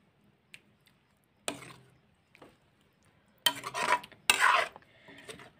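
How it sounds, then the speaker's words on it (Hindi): A spoon mixes chopped coriander into an egg curry: quiet at first, with a few isolated clinks, then louder bursts of scraping and squishing against the pan near the end. "धनिया को अच्छे से मिक्स कर देंगे।"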